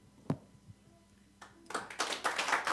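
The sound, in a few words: audience applause at church ordination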